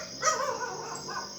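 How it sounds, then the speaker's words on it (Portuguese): A neighbor's dog gives a single faint bark from some distance, set against a steady outdoor background hum with chirping insects or birds. "Se você escutar latido de cachorro, é o cachorro do vizinho."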